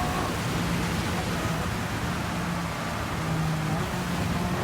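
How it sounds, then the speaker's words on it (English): Steady broadband hiss of rain while racing in wet conditions at Spa in Gran Turismo 7, a continuous even wash layered with a low engine drone, no break across the stretch. "Straight into the rain now."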